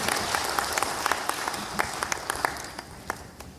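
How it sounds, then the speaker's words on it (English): Scattered applause from an audience at a Trinidad and Tobago land ministry certificate ceremony; fairly faint, a loose patter of individual claps that thins out and tapers toward the end. "Big round of applause for him."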